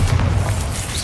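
Bombarda blasting spell from Hogwarts Legacy on PlayStation 5, a single short, deep booming burst heard close and loud, with no talk.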